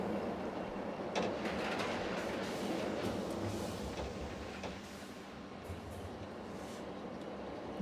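A roller coaster train runs along an indoor trick track in Planet Coaster 2, a low, steady rumble of wheels on rails with faint rattling clicks, fairly quiet and continuous, with no one talking.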